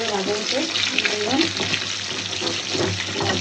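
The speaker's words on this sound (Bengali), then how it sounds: "মাছগুলো সুন্দর করে ভাজাও" Pangas fish frying in a pan for bhuna, giving a continuous close sizzle with crackling spatter and faint tonal hum underneath, with no break across the short stretch.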